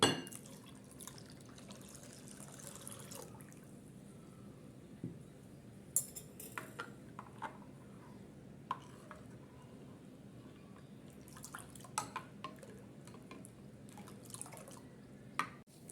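Milk poured into a glass of watermelon juice with soaked basil seeds, a faint liquid splash and trickle with soft drips, heard alone and close in a quiet kitchen.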